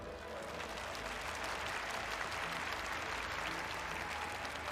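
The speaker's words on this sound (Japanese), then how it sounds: "拍手をお願いします。" An audience at a fan fest claps together in a dense, steady burst of applause that fills the room evenly from start to finish, with no pauses or voices standing out.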